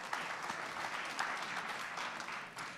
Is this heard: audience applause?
yes